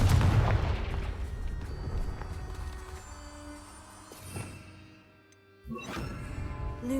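A Confringo fire spell in Hogwarts Legacy blasts loud at the start, followed by a fading rumble, a softer mid impact, and a sharp burst near the end.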